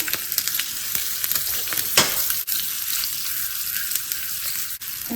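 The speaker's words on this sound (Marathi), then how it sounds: "जेवढा आपला भात असेल त्याच्यानुसार फोडणी करायची जरा ही डाळ लाल होऊ दे" Urad dal with one green and one red chili crackles and spatters in hot tempering oil, a close, busy sizzle broken by a few sharp pops and stirring clinks.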